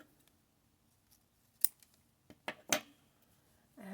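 Scissors snip through a length of ribbon used to lace a crocheted dice bag, giving a few sharp, close cuts separated by short pauses in an otherwise quiet room.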